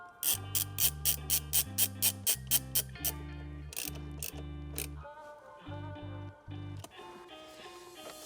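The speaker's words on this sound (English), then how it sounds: "Now we'll take our Torx bit again. We'll get that tightened down." Ratcheting driver with a Torx bit tightening fasteners during a heated steering wheel install on a Toyota Tacoma, a rapid series of sharp clicks in bursts with mechanical tones, close and clear.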